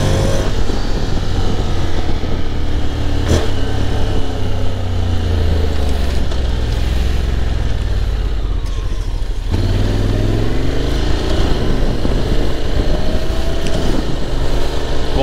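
A 2024 Honda X-ADV scooter pulling away hard with its rear wheel spinning, the engine revving loud and close with rising and falling pitch sweeps, dipping briefly before surging again.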